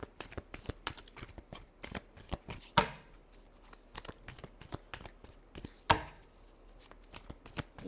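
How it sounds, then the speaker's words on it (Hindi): A deck of tarot cards being shuffled, with rapid riffling flicks and soft slaps in quick bursts, two sharper louder snaps standing out, close and clear with no talk. "Last shuffle."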